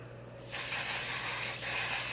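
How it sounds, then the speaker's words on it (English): One Size Until Dawn setting spray mists out in a close, steady hiss lasting under two seconds after a brief quiet moment, with a slight dip partway through, heard alone. "Gonna take another setting spray. This is One Size Until Dawn."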